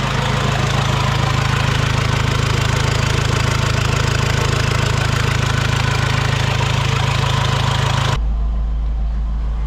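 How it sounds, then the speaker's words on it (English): A salvaged Nissan Patrol's engine idles steadily just after its first start, a dense, loud, even rumble heard close up. The idle continues alone, and the sound changes abruptly near the end. "the car has started and it's currently idling well"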